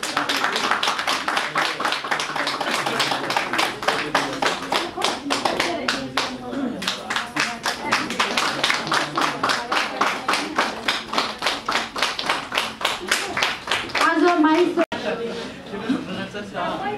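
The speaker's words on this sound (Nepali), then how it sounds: "कृपया ताली बजाइदिनु होला।" Audience applause with dense, sustained hand clapping at a Nepali public event, steady and loud for most of the stretch before tapering near the end, with faint chatter underneath.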